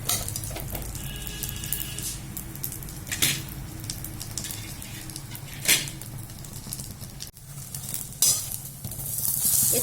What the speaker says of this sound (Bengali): যেটুকু সামান্য পরিমাণ ছিল সেটাকে দিয়েই আমি পাউরুটিটা সেঁকে নিচ্ছি।